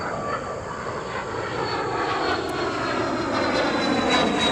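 A fixed-wing airplane flying past overhead, a steady loud engine roar with a slowly shifting whine, continuous and fairly close, with no talking.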